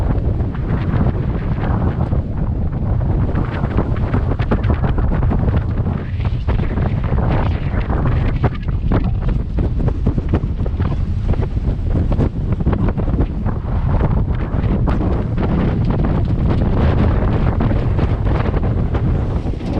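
Strong, steady wind roars and buffets the microphone throughout at sea in the South Pacific, with a low rumble and the wash of water beneath it.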